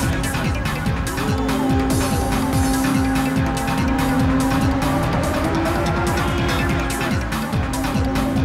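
A race car in the video game Ridge Racer Type 4 drives continuously, its engine revving hard up and down through gear changes while the tires squeal through corners, loud and steady throughout.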